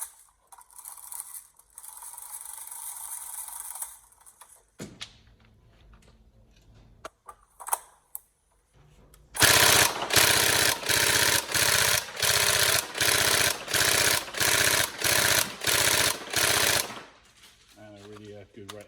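A Tokyo Marui SCAR L NGRS airsoft electric gun fires in quick bursts: a few brief clicks and whirs, then a loud run of about ten rapid, evenly spaced bursts, each a sharp mechanical rattle.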